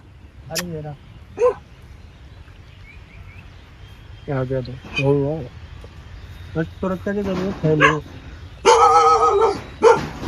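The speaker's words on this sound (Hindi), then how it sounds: "वैसे हमारी सुरक्षा के लिए काला कुत्ता रहता है" Dog barks from a street dog, a black one, come in short bursts at intervals amid a woman's speech, with a louder cluster of yips near the end.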